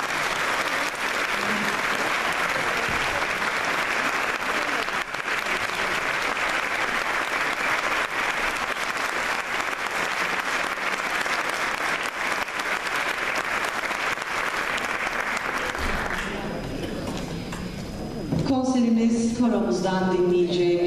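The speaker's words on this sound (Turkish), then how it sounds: "Çok değerli şefimiz Sayın Kadre Şarman'ı alkışlarınızla sahneye davet ediyoruz." A concert audience applauds steadily as the conductor of a Turkish classical music choir is welcomed onto the stage, a loud dense clapping that holds for about sixteen seconds, then fades before a voice begins speaking.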